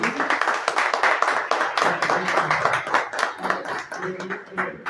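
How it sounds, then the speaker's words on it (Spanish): A lecture audience at an architecture seminar claps in a dense, steady round of applause that carries on for several seconds, with a few voices murmuring underneath. "un aplauso para ustedes"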